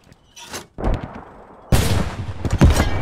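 Gunfire in the World War II shooter game Post Scriptum: sharp, loud shots and bursts at irregular intervals, some distant and some close, building to a dense rattle of overlapping fire toward the end.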